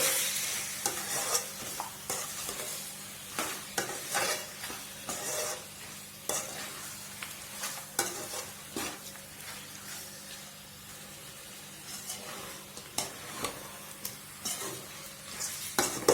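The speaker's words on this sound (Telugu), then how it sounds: "చికెన్ వేసుకున్న తర్వాత బాగా ఒక మూడు నిమిషాల పాటు హై ఫ్లేమ్ పెట్టుకొని బాగా చికెన్ను వేపుకుందామండి" Chicken fries on high flame in a pan while being stirred, giving a steady close sizzle broken by frequent scraping and clinking strokes of the spoon against the pan.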